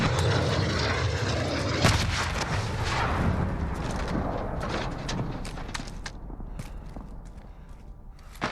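A roaring enemy VTOL jet passes overhead in the Call of Duty Modern Warfare video game. The loud engine rumble fades over several seconds while sharp impacts and clatter punctuate the scene.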